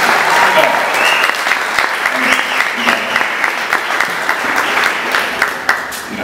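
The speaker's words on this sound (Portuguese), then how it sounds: "Pessoal, vamos aplaudir nossos amigos aqui" An audience claps steadily through the whole stretch, a dense, loud round of applause after an exhibition fight at a combat-sports event, with a voice talking faintly underneath.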